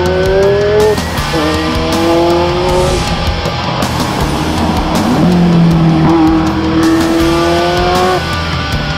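A Ferrari F40 slides sideways through a track hairpin, its tires squealing in long rising and falling tones over loud, continuous engine roar.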